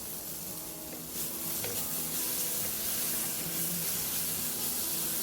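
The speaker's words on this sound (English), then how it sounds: "we'll make some space in the center and add the carrots with a little bit more oil" Carrots stir-frying in oil in a pan for yaki udon, a steady loud sizzle with faint scraping and stirring throughout.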